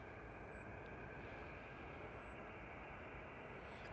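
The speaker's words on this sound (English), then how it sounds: "is this beautiful Qatar 777 coming out of Dublin" A Qatar Airways Boeing 777 in UEFA Champions League livery, inbound from Dublin, passes at Liverpool Airport as a faint, steady, distant jet roar with no break or swell.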